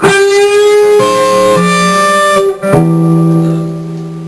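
Sustained electric guitar notes with pitch shifts between them, a string bend sliding upward near the end before ringing out, loud and alone.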